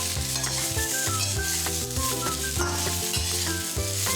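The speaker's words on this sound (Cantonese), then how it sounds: "葱段爆香" Scallion pieces sizzle in a hot pan with roast pork, garlic, ginger slices and shallots, a continuous loud frying hiss with scraping stirs, set against steady background music.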